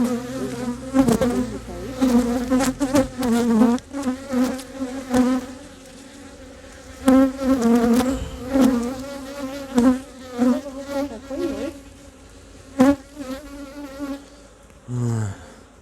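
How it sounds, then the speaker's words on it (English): Honey bees buzz loudly and continuously at an open hive during re-queening after the old queen has been removed. The agitated swarm drones close by without a break, with sharper passes of individual bees. "So still pretty antsy, which isn't really surprising because we did kill their queen."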